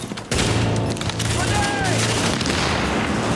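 Heavy gunfire in the online shooter The Division at the Russian Consulate, a loud rolling barrage of overlapping shots with booming impacts, dense and continuous after a sharp onset.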